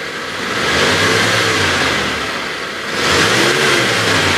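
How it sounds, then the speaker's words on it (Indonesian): A Mitsubishi T120ss pickup from 2013 has its engine revved while parked, two rising surges of engine noise climbing in pitch and falling back between, close and loud with no talk. "sedikit saya geber coba ya cek RPM ya"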